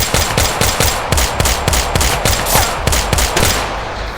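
Rapid bursts of automatic gunfire from the VR shooter game Tactical Assault VR, about a dozen sharp, evenly spaced loud shots in quick succession with no talking.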